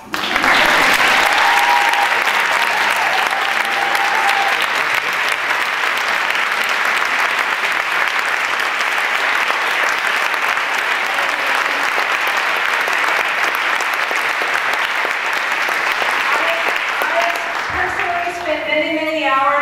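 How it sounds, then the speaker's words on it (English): Sustained applause from a seated audience at a California court reporters association mock assembly, steady and loud for most of the stretch before fading, as a voice begins talking at the very end. "Can we applaud?"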